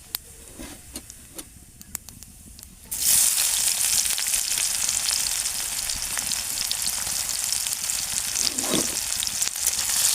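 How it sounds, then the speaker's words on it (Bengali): After a few quiet seconds with light ticks, cumin and chopped onion hit hot oil and burst into a loud, sustained close sizzle that continues evenly to the end, with a brief stir near the close. "আর আমি তেলের উপর প্রথমেই দিয়ে দেবো জিরে, তারপরে দিয়ে দেবো কুচিয়ে রাখা একটা পেঁয়াজ"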